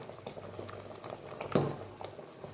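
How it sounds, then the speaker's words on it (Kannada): Sweet potato payasa with dry fruits bubbles in a pot, a close, continuous gurgle of thick liquid with irregular pops and blips at a moderate level. "ತುಂಬ ಚೆನ್ನಾಗಿ ಕುದೀತಾ ಇದೆ ನೋಡಿ."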